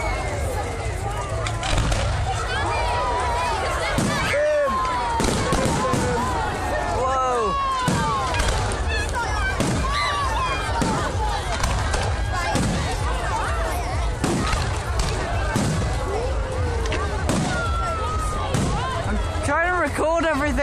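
A bonfire night fireworks display in Rhyl, with repeated sharp bangs, whistling rockets and crackling bursts at varying distances, continuing steadily while people nearby talk.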